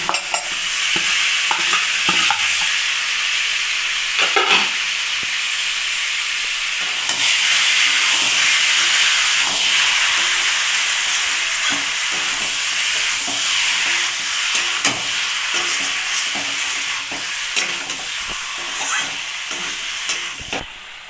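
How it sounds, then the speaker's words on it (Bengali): Boiled ash gourd pieces sautéed with spices and tomato in a pan for a curry with rohu fish, giving a steady close sizzle with repeated scraping stirs throughout, no talking. "কুমড়াটা আমি 2 মিনিট কষিয়ে নেব মশলার সঙ্গে, তাহলে কুমড়ার জল জল ভাবটা কেটে যাবে।"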